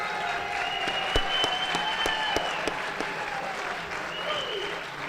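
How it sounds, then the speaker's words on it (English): An audience claps steadily for a high school jazz combo at a community brunch, a continuous mass of applause with faint voices mixed in. "We'd like to have a great round of applause for the Joliet Central Jazz Combo."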